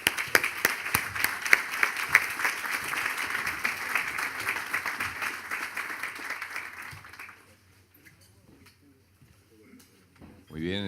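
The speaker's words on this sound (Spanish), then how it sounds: "¿Y qué les parece una cálida bienvenida con un aplauso?" Audience at a business breakfast gives a warm welcoming round of clapping, moderately loud and steady, fading out after about seven seconds into near quiet.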